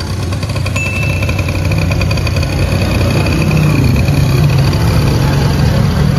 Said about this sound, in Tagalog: Ayun, umaandar siya. Oh, tahimik ng makina.